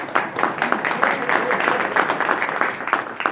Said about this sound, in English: I always clap for myself.